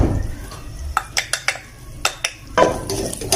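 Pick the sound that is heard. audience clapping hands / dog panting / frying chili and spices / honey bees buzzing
frying chili and spices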